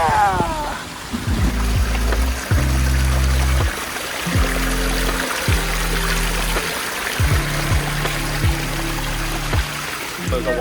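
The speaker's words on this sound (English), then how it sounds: "The water feature, the stack slate sphere, sphere." Water trickles and splashes steadily in a stacked slate sphere fountain, a continuous close babble, while low rumbling tones come and go beneath it.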